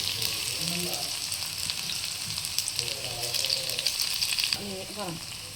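Onion and garlic sizzle in hot tempering oil with fenugreek and dried red chillies, a loud continuous frying hiss with brief stirring knocks and faint voice fragments underneath.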